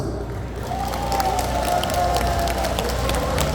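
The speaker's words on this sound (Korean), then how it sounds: "다 같이 큰 박수 소리 박수!" Steady applause from a festival crowd at the Dadaepo harbor festival in Busan during a university cheer squad performance, a dense wash of clapping sustained throughout with some background noise underneath.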